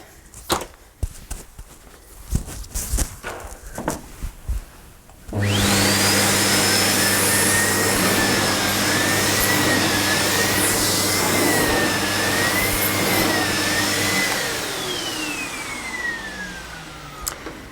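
A Sebo K3 Vulcano canister vacuum cleaner runs loud and steady for about nine seconds, its motor whine shifting slightly in pitch before it switches off and spins down, after some handling knocks.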